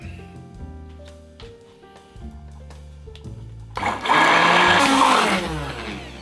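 A blender purees a vegan sauce gribiche with mustard and olive oil, starting in low choppy bursts, then surging into a loud, steady whirring roar.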